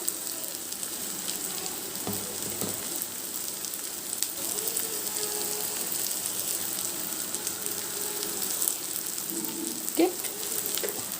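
Dwarf copper leaves (ponnaganti) frying in oil give a steady soft sizzle, with occasional clinks and stirring scrapes from a utensil in the pan close by.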